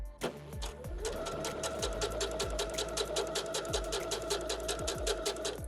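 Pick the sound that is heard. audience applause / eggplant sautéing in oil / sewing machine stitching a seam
sewing machine stitching a seam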